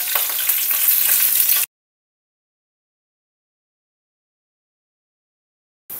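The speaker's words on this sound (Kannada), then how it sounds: "ಇದು ಹಾಕಿ ಒಂದು 5 ಸೆಕೆಂಡ್ ಕೈ ಆಡಿಸಿದ್ರೆ ಒಗ್ಗರಣೆ ಬೇಯುತ್ತೆ" Chana dal, urad dal, mustard seeds and curry leaves frying in hot oil for a tempering give a loud, steady sizzle for under two seconds, then silence, with a brief burst of sizzle returning at the very end.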